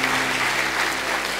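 A church congregation at a baptism service applauds, a dense, steady clapping that fills the room without pause.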